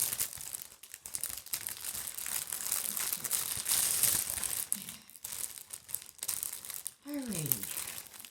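Plastic packaging crinkles and rustles almost continuously while a craft kit is opened, with a brief voice-like sweep near the end.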